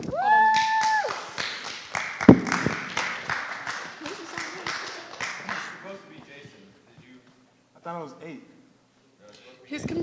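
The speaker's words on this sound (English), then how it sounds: "Clap it up, because up next we got Femi." Students in a 3rd-period classroom clap for a classmate at a school talk event: a dense burst of many hands for several seconds that thins out, with voices talking as it fades.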